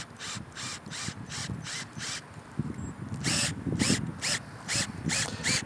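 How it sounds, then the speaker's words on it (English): A deck screw is driven by a power drill into lunar simulant soil, gravel over a softer layer, producing repeated bursts of ratcheting, grinding whir with short pauses between, close and fairly loud. "the deck screw can be screwed in all the way"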